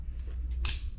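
Scissors snip through a duffel bag's leather strap near a 1-inch punched hole, a short close cut over a low steady workshop hum.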